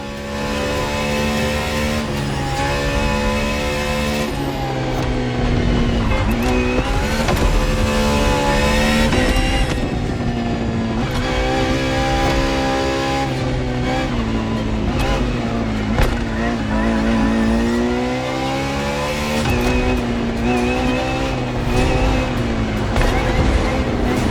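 Ferrari FXX-K race car in The Crew Motorfest, engine screaming continuously near and loud, pitch climbing and dropping with repeated gear changes and throttle lifts over a sustained drive.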